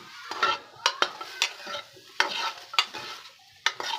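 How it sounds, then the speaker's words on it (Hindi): Chunks of taro sizzle and crackle in a hot kadai while a utensil stirs and scrapes in repeated strokes, close by, with no talking. "अब एक बर्तन में इसको अच्छे तरीके से हम फ्राई करेंगे।"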